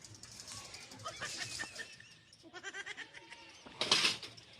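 Goats bleating in a village lane, several short wavering cries spread across the clip, the loudest near the end, over a background of faint voices and outdoor noise.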